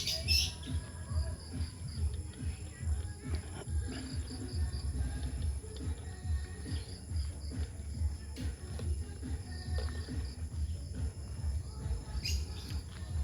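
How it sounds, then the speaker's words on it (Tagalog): Birds chirp and call intermittently over a steady background of insects in a quiet rural setting, with a few sharper tweets standing out. "Huni lang ng ibon ang maririnig mo kapag ganitong mga oras."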